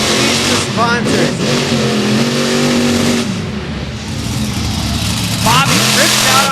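A racing truck at Indianapolis, Indiana, roars around the track with rising and falling engine revs and gear changes, loud and close, while a commentator talks over it.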